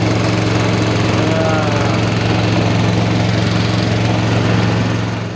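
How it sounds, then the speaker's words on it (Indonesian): Ketinting longtail motorboat engine drones loudly and steadily up close on the Rawa Biru swamp, a constant low buzzing hum without a break. "untuk menggunakan ketingting di Rawa Biru"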